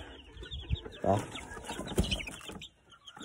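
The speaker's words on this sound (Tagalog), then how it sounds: "Meron na tayong mga sisiw dito." Young chicks peeping on a poultry farm, faint high chirps scattered over about three seconds under a voice and background clatter.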